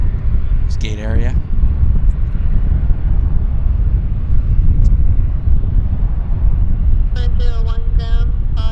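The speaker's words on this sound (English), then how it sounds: "we'll follow the A330 to the gate" An Airbus A330 taxies to the gate at Vancouver airport, a steady broadband jet-engine rumble running through the whole stretch, with brief voices near the start and end.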